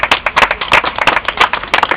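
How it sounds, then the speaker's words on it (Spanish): A congregation claps together in a church gathering, fast and close, with dense, fairly loud bursts of applause running for about two seconds. "Den un aplauso al Señor"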